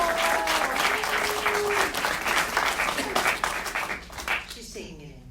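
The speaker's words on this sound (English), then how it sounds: "I think we should give our hosts a bit of a round of applause for creating a shared experience." An audience applauds its hosts at a film discussion event, a full, sustained round of clapping that gradually thins and fades, with a voice coming in at the end.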